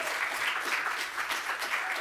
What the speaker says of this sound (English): please give Jen a really big round of applause